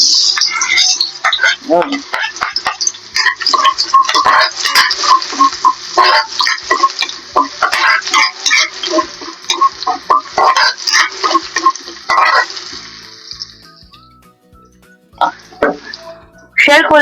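Onion and garlic hitting hot oil in a pan, a loud, continuous sizzle with crackling pops that fades toward the end, while a voice speaks briefly over it.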